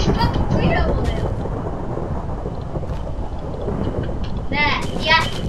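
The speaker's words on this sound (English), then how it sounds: "Lightning struck me!" Lightning striking in Minecraft, a rumbling thunder crash with crackling noise that fills the clip, followed by a brief exclamation near the end.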